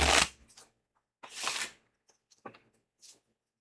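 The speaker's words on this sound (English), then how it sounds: "I'm shuffling some cards. Give the people at home some ASMR. Some playing card ASMR." Playing cards from a board-game session are shuffled in several quick riffling bursts separated by pauses, close and crisp with no talk over them.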